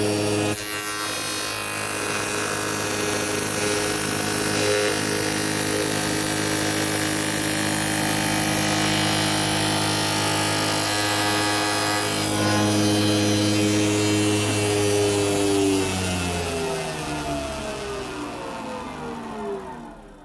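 A spindle moulder woodworking machine runs steadily at a loud, constant pitch, a sustained mechanical whine with strong harmonics that begins to wind down in pitch toward the end.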